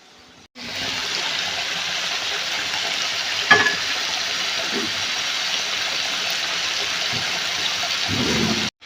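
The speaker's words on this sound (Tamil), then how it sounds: "சிக்கன் 65 பொரியிற சவுண்டை மட்டும் நீங்க கேளுங்களேன்." Chicken 65 deep frying in hot oil: a loud, steady, close sizzling hiss that starts abruptly and holds nearly nine seconds, with a brief pop or clink partway through and no talk.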